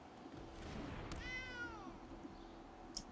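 A single drawn-out cat meow, moderately faint and slightly wavering, rises over a steady low background hum, with a small click near the end.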